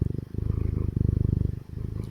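A domestic cat purrs close by in a deep, rough, continuous rumble that sounds almost like a growl, pulsing steadily and loudly with only brief dips.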